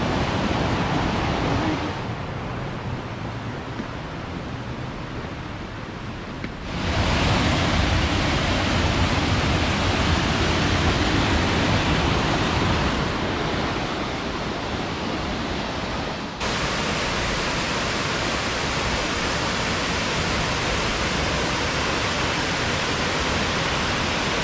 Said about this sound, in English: Thousand Hands Waterfall.